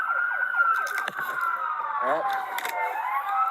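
An ambulance siren wails in rising and falling sweeps during a police pursuit of a suspected drunk driver, steady and prominent with a short spoken exclamation over it.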